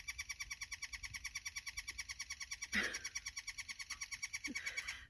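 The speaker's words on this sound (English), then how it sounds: "These birds are ridiculous." Birds call in a fast, relentless repeating series at a lakeside canyon campground, a steady pulsing chorus with a couple of brief nearby knocks and rustles.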